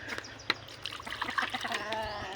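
Water trickles and splashes as it is poured out for backyard chickens to drink, a short close dribble with small irregular splatters and no talk over it.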